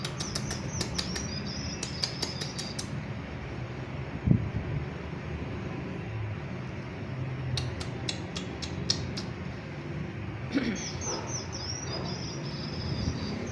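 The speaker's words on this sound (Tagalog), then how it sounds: "yun daw yung tunog ng ibon." Bursts of rapid, high-pitched bird chirps come and go over steady wind-like background noise, with a couple of soft thumps.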